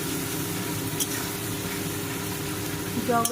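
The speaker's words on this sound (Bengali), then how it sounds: "তো এখন এটাকে আমি ফ্রাই করে চলেছি যতক্ষণ না পর্যন্ত তেল ওঠে" Garlic, green chillies and chilli powder fry in oil for a Bombay duck curry, giving a steady, moderate sizzle under a low hum, with a voice briefly near the end.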